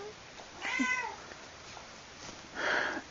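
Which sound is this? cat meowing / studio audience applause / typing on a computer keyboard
cat meowing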